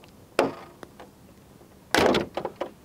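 Hood of a 2025 Jeep Wrangler Rubicon, propped on a mechanical rod, is slammed shut: a light knock, then a louder heavy thud followed by short metallic rattles.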